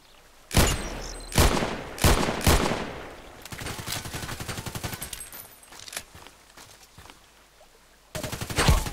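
Gunfire in the online shooter Contract Wars: several loud single shots, then a sustained rapid automatic burst, and a final loud volley at the end, with no talking.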